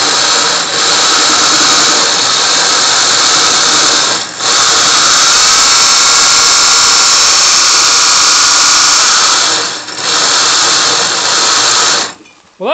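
An electric drill drives a barley mill, grinding grain with a loud, steady high-pitched whine and rattle that holds for about twelve seconds, dipping briefly twice, before stopping near the end.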